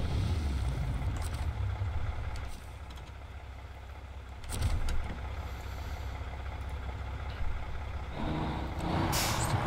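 A heavy truck idles and rumbles in SnowRunner at the Airdrome logging site, with a brief burst of air brake release in the middle and a sharp hiss near the end.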